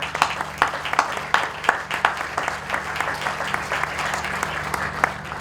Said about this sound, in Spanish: así que aplausos.